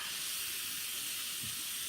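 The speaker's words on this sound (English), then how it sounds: "Let the steam out." Steam hisses steadily out of an unplugged cooker covered with a towel, making a continuous close rushing noise with no talking.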